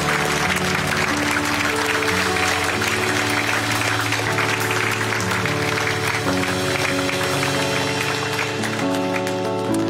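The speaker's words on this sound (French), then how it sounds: "lui donne une belle acclamation ce matin" A church congregation applauds during a French-language service led by Pastor Christian Robichaud, a dense, sustained wash of clapping and cheering with organ or keyboard chords sounding underneath.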